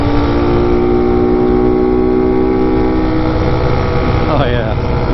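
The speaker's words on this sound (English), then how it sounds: "Downshift now." A TaoTao Hellcat motorbike with a swapped Zongshen 190cc five-speed engine runs close and loud, its engine note holding steady and then dropping in pitch near the end as it shifts down, with wind roar and a voice over it.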